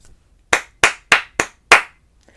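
Five crisp hand claps in a short rhythm during a music lesson, the first four evenly spaced and the last after a slightly longer gap, close and dry with no talking.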